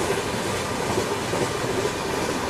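An Ahmedabad–Puri Express runs on rails through a station in Train Simulator on PC, giving a steady, loud rumble and rail noise with no talking.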